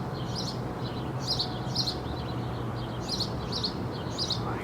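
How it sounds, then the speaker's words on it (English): Birds sing in the background at an RV living site, short high chirps and trills repeating in small bursts over a steady low hum, fairly faint and distant. "With the birds in the background."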